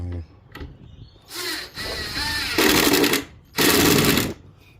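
A power drill drives screws into a wooden base built to extend a thicknesser, in two loud sustained whirring bursts after some handling knocks, close by, with no talk.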